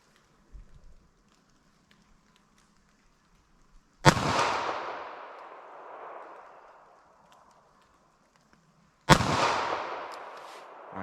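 Two loud, sharp .380 ACP pistol shots fired at a target 40 yards away, several seconds apart, each followed by a long rolling outdoor echo.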